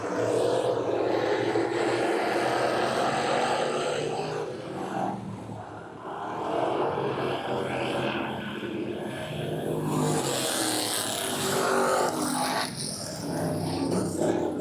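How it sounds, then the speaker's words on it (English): Race cars roar around a short track during an evening race, a steady loud engine drone that swells and fades as cars pass, with no voices over it. "That's a fast car there, baby."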